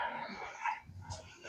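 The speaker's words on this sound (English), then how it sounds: "dog's barking." A dog barks and whimpers in a garage setting during work on a 1980 Firebird, a few short, fairly faint yips heard at some distance.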